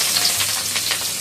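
Shahi cumin and onions sizzle steadily in hot oil for biryani, a continuous close frying hiss with soft bursts of crackle and no voices.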